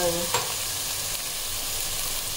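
Okra (bhindi) fries in a pan with a little salt for dhaba-style bendi masala, giving a loud, continuous close sizzle with a brief scrape of stirring at the start.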